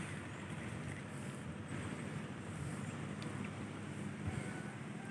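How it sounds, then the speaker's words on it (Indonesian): Strong wind roars steadily around a climber high in a treetop on a foggy day, a continuous close rushing noise with microphone buffeting and no pauses. "Oh, mak anginnya kencang banget."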